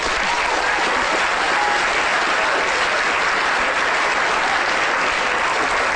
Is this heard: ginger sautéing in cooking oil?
no